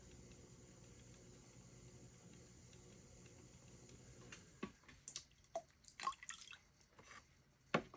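Water drips and splashes in a few scattered, faint drops as it is removed from inside a wet clay piece during marbling work, following several seconds of quiet room hiss.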